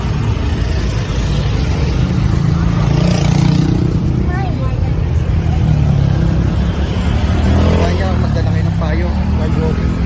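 Steady, loud traffic on the EDSA highway rumbles close by during a walk, with vehicles passing and accelerating, while a person speaks over the noise.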